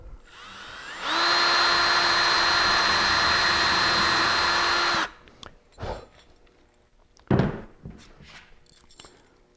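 A power drill whines at a steady high pitch for about four seconds while smoothing out a started hole in a workbench, then stops, followed by a few close clunks and handling knocks.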